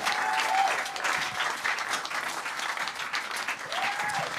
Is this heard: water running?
no